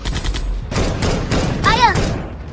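Gunfire in a dramatic action scene: a rapid fusillade of close, loud shots in bursts, with voices and shouting mixed into the barrage.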